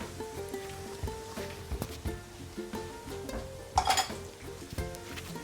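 Garlic and curry leaves sauté in a pan for a soya chunk roast, with a quiet, steady sizzle broken by scattered stirring clicks and scrapes of a utensil against the pan.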